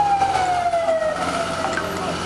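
Police water cannon trucks pass during a clash outside the Democratic Party headquarters in Albania, a siren tone sliding steadily downward as the vehicles move away over a constant crowd and street roar.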